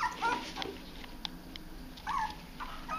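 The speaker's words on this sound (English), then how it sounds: "These little puppies are out of Izzy and Helmie" Four-week-old Mini Australian Shepherd puppies whimper and yip in several short, high, wavering cries, close by, over a low background hum.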